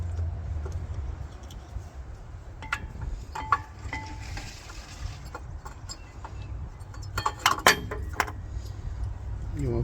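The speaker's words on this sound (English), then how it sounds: "it is time to attach the new brake pads." Metal brake pads are fitted onto the rear caliper bracket of a 2003 Toyota 4Runner, producing scattered close clinks, scrapes and light metallic jangles that grow busier toward the end over a low background rumble.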